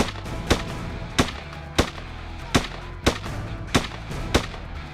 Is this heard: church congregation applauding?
no